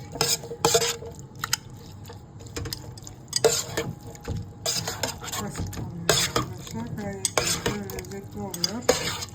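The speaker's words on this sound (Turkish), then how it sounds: "Bu şekilde karıştırıyoruz." A spoon stirs and scrapes through a purple cabbage salad with chili flakes in a bowl, giving irregular clinks and wet rustling bursts that repeat throughout at close range.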